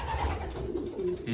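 A racing pigeon coos close by in its loft, a low, throaty rolling call that carries through the short clip against a quiet background.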